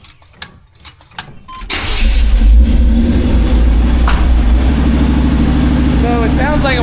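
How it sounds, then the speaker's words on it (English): A cammed Chevrolet C10 Squarebody truck with a Holley carburetor cranks with a few clicks, then fires and settles into a loud, lumpy fast idle with a choppy low rumble, close up, with a voice speaking over it. "So it sounds like it went to the fast idle right away."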